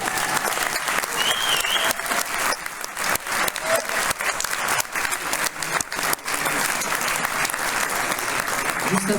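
Audience at a concert in Montrichard breaks into sustained, loud applause that fills the room from start to finish, with dense overlapping claps and a few faint voices mixed in.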